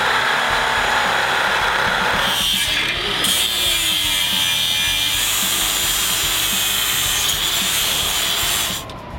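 A power tool grinds and cuts steel, trimming excess material from the frame horn of a Jeep JK, a loud continuous abrasive whine with a harsh rubbing texture that holds steady throughout and cuts off near the end.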